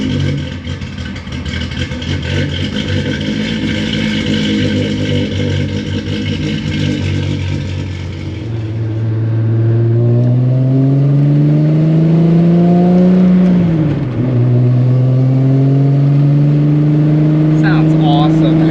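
An all-motor Corrado VR6 engine idles rough and clattery, then revs up in a rising, sustained wail that dips and holds high, loud and close, with voices around it.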